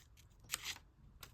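Scissors snipping paper scraps for a collage, a few quiet close cuts with one longer slicing stroke in the middle and a short snip near the end, otherwise near silence.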